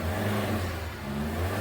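Alfa Romeo 159 turbo engine accelerating after a boost fault repair, a steady mid-pitched engine drone with a low hum throughout, close and continuous with no talk.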